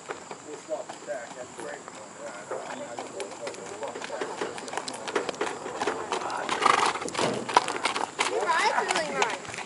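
A trained horse trots on a straight line in rhythmic, moderately close hoofbeats, with people talking over it and birds calling in the background.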